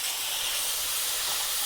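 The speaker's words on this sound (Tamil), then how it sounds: "இப்போ நாங்கள் இந்த தக்காளியை போடுவோம்." Tomatoes go into a hot pan of softened onions for a Sri Lankan tin fish relish, and a steady broad hiss of sizzling follows, fairly quiet and unbroken with no voices.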